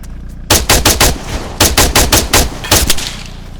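Rapid bursts of automatic gunfire in a shooter game crack out loud and close, several quick volleys in a row after a brief quiet start.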